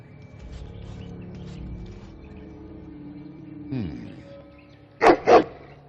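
A hound barks twice in quick succession near the end of a scene in the video game Dragon Age Origins, loud sharp yelps following a low rumbling ambience and a brief rising tone.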